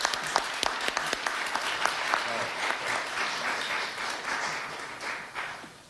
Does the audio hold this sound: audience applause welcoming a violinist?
yes